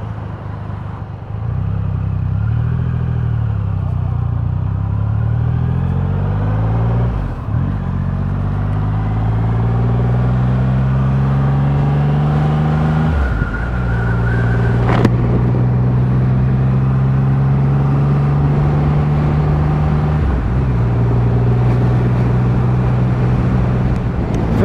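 A 2021 Triumph Rocket 3 motorcycle on a test ride, its big engine droning loud and close with rising pitch as it revs through the gears and short dips at each shift, plus wind rush.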